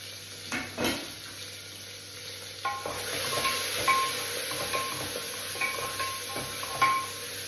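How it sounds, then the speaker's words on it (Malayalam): A spoon stirs cumin, pepper, turmeric and dried chilli in a pan while oil sizzles softly. Close metallic scrapes and clinks come at an uneven pace, with no talking. "ഒന്ന് ഇളക്കി എടുക്കുക."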